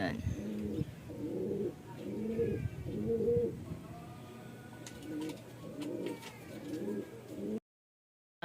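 Racing pigeons coo in repeated soft, throaty phrases, close by and fairly quiet, with faint chirps and background noise before the sound cuts off abruptly.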